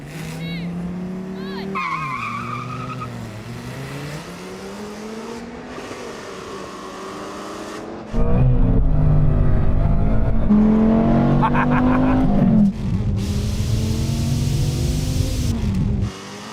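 A Ford Mustang GT and a Dodge Viper race, engine notes rising and falling through gear changes before a louder, harsher surge of acceleration, with tire squeal and a voice talking over parts.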